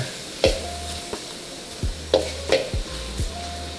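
Garlic being stirred in a pan over low heat, with a soft steady sizzle broken by several sharp scraping clacks of a utensil against the pan, no voices.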